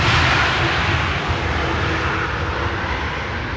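A jet airliner roars in to land on Schiphol's Polderbaan runway 18R, a loud, steady broadband engine rush that fades only slightly throughout, with no voices.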